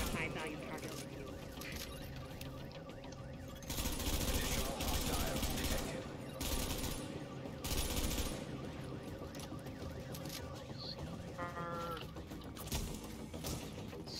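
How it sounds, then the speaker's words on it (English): Gunfire in The Division shooter, several loud bursts of rapid shots in separate clusters over continuous game ambience, with people talking throughout. "Shots back there. They're all around me."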